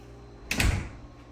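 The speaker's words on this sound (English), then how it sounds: "And then the door closes again." A door swings and shuts once in a quiet room, producing a single moderately loud thud with a brief rattle that fades quickly.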